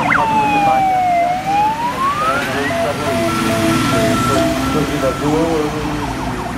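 An OSP volunteer fire brigade truck sounds its siren while responding to a car fire, the loud wailing tone sweeping down and up, then shifting to a steadier two-tone horn pattern, with voices underneath.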